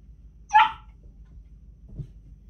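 A single sharp dog bark rings out close by, followed by a faint low thump and quiet background hum.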